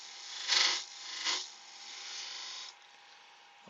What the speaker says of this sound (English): need the screw chisel to give me an angle on this for the dovetail.